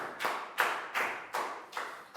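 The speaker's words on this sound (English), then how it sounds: "big round of applause for Chu" A class of Year 4 children in a classroom claps together in a steady rhythmic beat, about five evenly spaced bursts of applause, fairly close and moderately loud.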